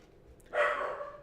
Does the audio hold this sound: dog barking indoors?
yes